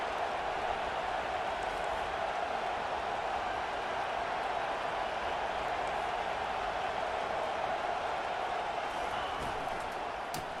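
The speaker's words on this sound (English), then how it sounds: "Decibels rising as the crowd gets behind this defense on 3rd down" A stadium crowd in an American football video game roars on a defensive third down, a broad, dense and sustained wall of cheering that stays steady and even throughout, distant and full with no single voice standing out.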